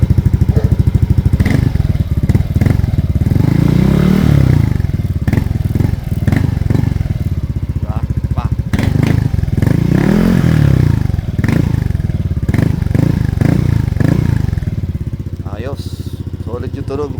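Yamaha Aerox v2 scooter fitted with a Namban power pipe exhaust runs close by, idling with a steady throb and revving up twice in rising surges before settling back, with a few clicks and knocks near the end.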